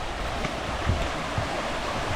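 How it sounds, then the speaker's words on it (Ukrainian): A small mountain river, the Mala Uholka in the Carpathians near a footbridge, rushes steadily past, its broad continuous water noise close and fairly loud with no voices over it. "А я чую, що тут водичка і місток."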